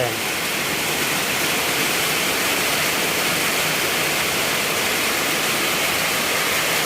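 Heavy rain pours down while floodwater rises toward houses, a loud, unbroken roar of dense noise like a downpour or rushing water, steady and close for the whole stretch.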